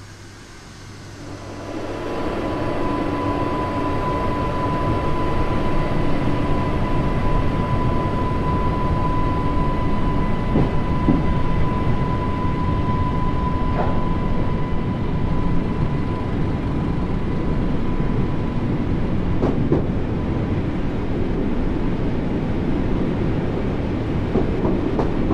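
In the Train Sim World 2 video game, a train departs on the Isle of Wight line, its rumble swelling after a quiet start into a steady, loud rolling drone with a faint sustained tone and occasional clicks over the rails.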